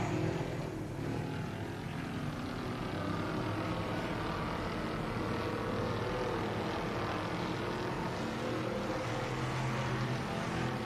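A race car runs a hot qualifying lap at Needmore Speedway in Norman Park, Georgia, with a continuous engine roar that holds steady and moderately loud for the whole stretch, with no one talking over it.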